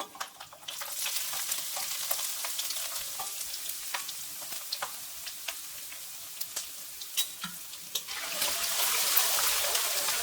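Peanuts and thin-sliced ginger fry in hot oil in a pan for pulihora, a soft steady sizzle with scattered crackles and stirring scrapes, louder hiss near the end.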